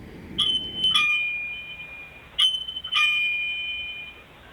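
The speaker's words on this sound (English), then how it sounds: "the doorbell in my kids' room upstairs is going off" A bright electronic two-tone chime rings three times, clear and fairly close, each tone ringing out over a low background hiss.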